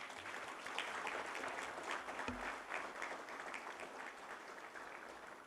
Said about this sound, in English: Please join me again in giving Prarthana another round of applause